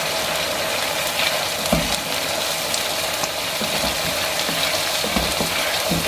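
Garlic ginger paste frying in a pan for baghare baingan, a steady close sizzle with occasional scraping and stirring clicks from a utensil, no voices.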